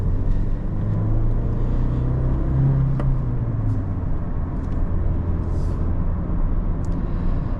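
A 2017 Mazda3 Sport with a six-speed manual gearbox revs high toward its 6,800 rpm redline, heard as a steady cabin-level engine drone that climbs briefly in pitch near the middle before settling again.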